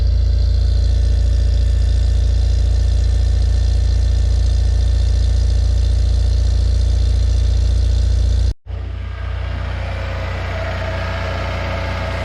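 A 1980s car engine idles loud and close after carburetor work, a steady low drone that cuts off abruptly, then comes back rougher and thinner.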